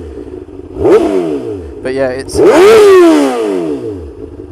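A warm 2008 Honda Hornet CB600FA motorcycle engine is revved hard twice, each throttle blip rising sharply and then falling away, the second longer and louder. Someone talks briefly between the revs.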